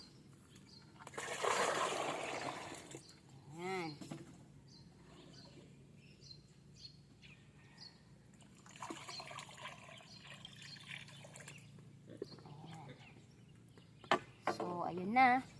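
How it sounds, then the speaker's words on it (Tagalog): Water is poured and trickles into a container in a home kitchen, coming in short splashy bursts between stretches of talk. "lagyan natin ng tubig"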